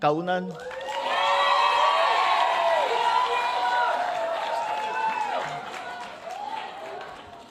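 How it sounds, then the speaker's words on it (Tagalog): Loud crowd cheering and applause, with whoops and shouting voices, swells after a brief start and holds steady before easing off toward the end, at an event during a Philippine presidential visit to Japan. "malakas ang palakpak nila"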